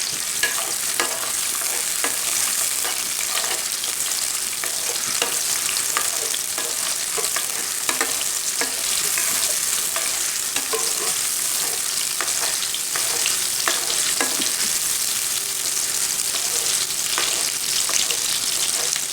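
Chopped onions fry in hot ghee in a kadhai, with a steady close sizzle and occasional stirring scrapes running throughout.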